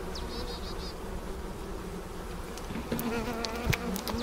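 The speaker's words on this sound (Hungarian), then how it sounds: "A mézes keretről mélesöprő kefe segítségével lesöprik a méheket." Honeybees buzz in a dense, continuous drone around a honey frame being brushed off at a rapeseed-honey extraction site, close and fairly loud, with a few sharper knocks near the end.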